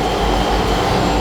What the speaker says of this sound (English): so that's my dust extractor going.